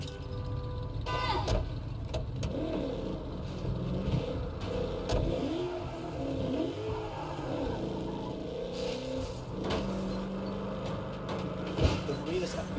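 A car driven in Saints Row hums with a steady engine drone and road noise, occasional revs and clunks rising over a busy game background.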